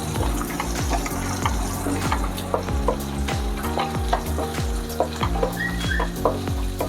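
Coarsely chopped onion is stirred in a pan, with repeated rhythmic scraping strokes over a bright sizzling hiss, close and fairly loud without any talking.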